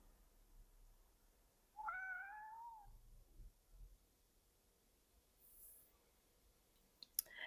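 A pet cat named June gives a clear, rising-then-falling meow of about a second, close and alone in a quiet room, followed by a few faint clicks and soft rustles.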